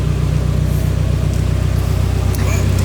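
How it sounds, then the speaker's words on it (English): A car engine from a worn 240SX or IS300 runs steadily after its first startup, a low continuous drone throughout with faint noises on top. "the engine sounds great"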